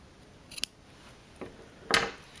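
Scissors snip the yarn tail of a knitted toe-up sock, three short crisp cuts spaced apart in a quiet room, the last one loudest and closest.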